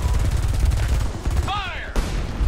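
Gunfire in the video game Homefront comes as dense, crackling shots over rumbling background, followed by a sharp whining sweep and a final crack, with game dialogue present around it.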